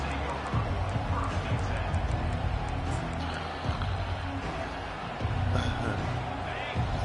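Stadium crowd noise in a college football video game rumbles as a steady, loud roar through the whole stretch, with commentary voices talking over it.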